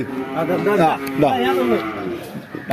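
A buffalo at a livestock market moos in low, drawn-out calls, two close, loud moos in a row amid a noisy market background.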